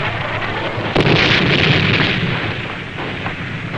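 A mortar shell explodes in a film battle scene, a close, loud blast with a sharp burst of debris that roars on and slowly fades.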